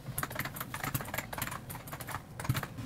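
Rapid, uneven clicking of fingers typing on a computer keyboard, close and fairly quiet, with a slightly heavier keystroke or two.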